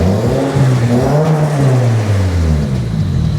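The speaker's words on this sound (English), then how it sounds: "Bit of a rev. Yeah, give it a rev." A JDM car engine revs up and holds, a loud, close, steady drone that rises and falls in pitch over a few seconds, with no talking.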